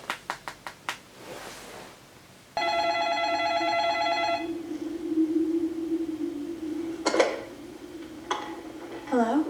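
A telephone call rings out: a steady electronic ring tone with stacked harmonics sounds for about two seconds after a few short dialing clicks, followed by a low hum on the line and a couple of handling clicks.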